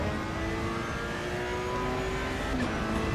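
A race car engine roars from a standing start in the sim racing game Assetto Corsa EVO, a loud, steady layered drone of revving harmonics that climbs slightly in pitch, no voices.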